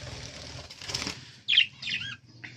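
Rescued parrot chicks flutter inside a cage, with a short burst of wing flapping followed by a couple of brief, close rustling flurries and faint chirps.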